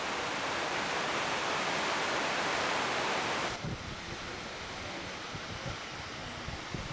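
Waterfall pouring down on a Himalayan mountain trail in Bhutan near the Taktsang temple, a loud, steady broadband rush of falling water that drops somewhat in level midway and continues without voices.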